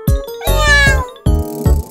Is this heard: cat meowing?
yes